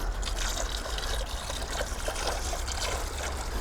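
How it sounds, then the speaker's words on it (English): Water from a watering can pours steadily into a garden pond liner at an allotment, a soft continuous trickle and splash that runs without a break and stays fairly quiet. "Right, so the liner's down, water's going in."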